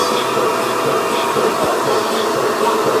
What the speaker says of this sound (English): like a whole body air blow dryer